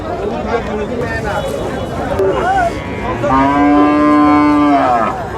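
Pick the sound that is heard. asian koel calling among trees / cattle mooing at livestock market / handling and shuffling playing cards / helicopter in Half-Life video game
cattle mooing at livestock market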